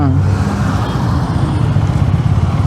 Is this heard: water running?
no